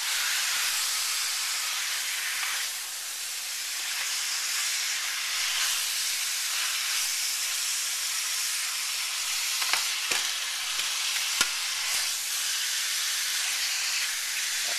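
Korean short ribs searing in a very hot pan give off a loud, steady hiss and sizzle, with a few sharp spits and pops near the end and no talking.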